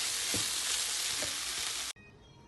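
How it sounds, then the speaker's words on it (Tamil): Loud, steady sizzling of grated coconut frying in a pan with celery, with a few soft stirring scrapes, cutting off abruptly near the end. "ஒரு 2 மினிட்ஸ் இந்த தேங்காய் பூ வதங்கட்டும்."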